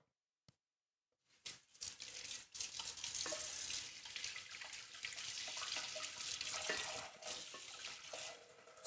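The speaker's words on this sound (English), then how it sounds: "Just gonna let that fill with some water and soak a little bit" Kitchen faucet running steadily into a pot or container being filled to soak after straining cocktail syrup, a continuous hissing splash that starts after a brief pause and continues loudly to the end.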